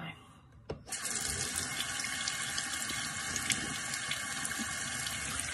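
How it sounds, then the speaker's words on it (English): A tap turns on after a brief clunk and water runs steadily into a sink for a quick rinse, a close, continuous splashing flow with no talking. "just give it a quick rinse with some water so I don't need to pull up my sleeves"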